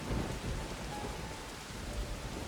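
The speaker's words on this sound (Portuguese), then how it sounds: "Na Vila da Chuva, a própria água parecia cair mais pesada." Heavy rain pouring steadily in the rain-soaked village of a Naruto anime scene, a dense, loud hiss of falling water with a low rumbling undertone and no speech.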